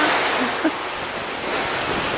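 Grain pours from a GLOBALAGRO agricultural semi-trailer at harvest time, a steady, loud rushing hiss that continues evenly throughout with no pauses.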